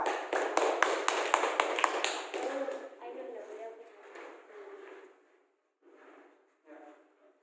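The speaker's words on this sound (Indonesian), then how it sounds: "Tepuk tangan dulu untuk Nisa." Children give a brief round of rhythmic clapping for a classmate named Nisa, about a dozen quick claps close by, followed by voices talking quietly in a classroom.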